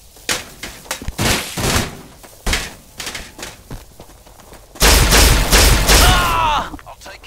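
Gunfire in a Warhammer-style battle video game, heard as bursts of shots and impacts scattered through the clip, turning into a loud, dense barrage near the end, with combat voices calling out amid the noise.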